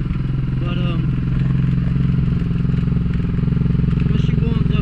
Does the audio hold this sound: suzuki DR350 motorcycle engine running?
yes